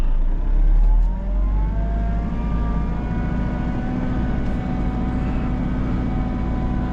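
A car's engine drones steadily with rising harmonics as it labours along soft beach sand, cutting a track after a big storm; the loud, continuous rumble sounds close, with no voices.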